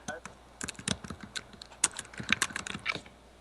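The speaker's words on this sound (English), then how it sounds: "and someone's typing furiously" Fast, irregular bursts of keystrokes on a computer keyboard, typed furiously in quick clusters and close to the microphone over a low steady hum.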